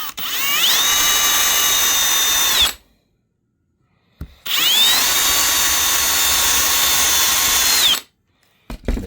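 A power drill whirs in two bursts, drilling through fabric onto a rubber mat, each spinning up to a steady high whine for a few seconds, separated by a pause of silence.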